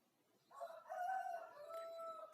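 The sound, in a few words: rooster crowing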